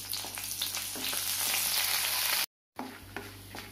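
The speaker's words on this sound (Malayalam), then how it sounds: "ഇപ്പം ഇഞ്ചിയും കരിയേപ്പിൻ്റെ ഇലയും മറ്റൊരു മുളകും കൂടി വഴറ്റിയെടുത്തു." Dried red chillies, curry leaves and chopped ginger sauté in hot oil for a chutney. A close, steady sizzle with crackles and stirring scrapes runs on, then cuts out briefly before resuming more softly.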